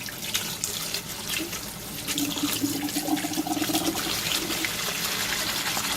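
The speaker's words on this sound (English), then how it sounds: "And you want to rinse really well after you do this, okay? So rinse really good." Shirataki noodles are rinsed under a running kitchen faucet, giving a steady, close splashing rush of water that continues without pause.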